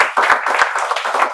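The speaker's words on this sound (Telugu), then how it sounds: "క్లాప్." A spoken English class bursts into a short round of close, lively applause, many hands clapping together for about a second.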